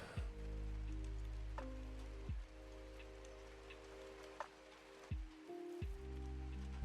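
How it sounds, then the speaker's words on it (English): Ambient rain plays as a steady, soft hiss beneath a calm home-renovation game, with low sustained electronic tones sliding and shifting over it and no speech. "I love the rain noises."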